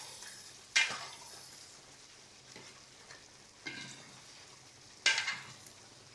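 Three sharp spoon scrapes come at uneven intervals as stuffed brinjal curry (gutti vankaya) is stirred in a pan, over a steady low frying sizzle, close and moderately loud, with no talking.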